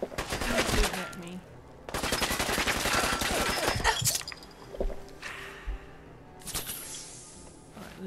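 Video game gunfire in Fallout 4 rattles in two long rapid bursts, then thins to scattered shots and impacts, fairly loud with a brief voice underneath.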